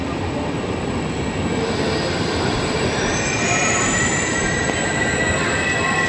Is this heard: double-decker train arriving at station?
yes